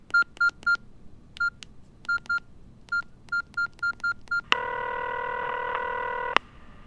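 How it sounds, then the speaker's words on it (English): A telephone number is dialed with a rapid series of about a dozen short touch-tone beeps in uneven groups, followed by a steady, loud ringback-like tone lasting about two seconds, with no talking. "and I dialed"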